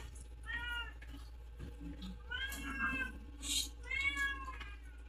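A cat meows repeatedly at mealtime, three drawn-out calls spaced a second or so apart, fairly close and moderately loud over a low steady background hum, with no talking.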